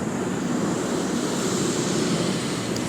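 A commercial airplane flying overhead at night, heard as a steady, broad engine roar that holds evenly for the whole stretch. It is fairly loud, with no talk.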